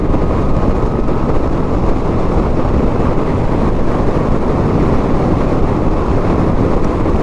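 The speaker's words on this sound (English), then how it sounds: "It's definitely a stiff breeze coming right at me" Steady, loud wind roar buffets the microphone on a 2020 Harley-Davidson LiveWire electric motorcycle ridden at highway speed with no windshield, a continuous low rumble with no break.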